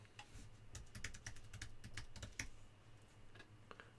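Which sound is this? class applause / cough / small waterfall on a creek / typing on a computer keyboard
typing on a computer keyboard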